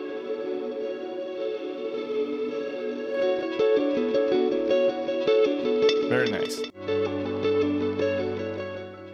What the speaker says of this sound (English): This time I'm using Lexikan 2. And the big reverb sounded best in here.